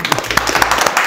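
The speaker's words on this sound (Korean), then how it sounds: "일단 박수 치고 가겠습니다." Applause from a small group during a mafia party game, dense steady clapping sustained through the short stretch without pauses, close by.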